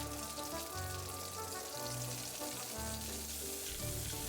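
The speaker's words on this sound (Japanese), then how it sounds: "ではブロッコリーを揚げ焼きにしていきましょう。" Broccoli pan-frying in hot oil sizzles and crackles steadily, a close, continuous spatter with soft bumps from the pan and no talking.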